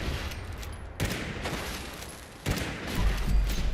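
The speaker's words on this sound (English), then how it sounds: "I want to see what happens if I just shoot all of his eyeballs out" Video game gunfire aimed at a robot's eyes, two distinct loud bursts of rapid shots separated by a short pause, with a low rumble toward the end.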